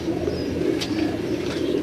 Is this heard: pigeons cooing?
yes